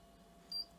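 A single short, high electronic beep from the control panel of an AKG157 refrigerator as its set button is pressed, rising briefly over a faint steady hum.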